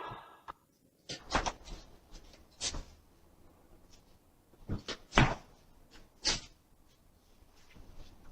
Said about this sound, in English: a nearby door swung open on its own, held for a brief moment, then shut itself again.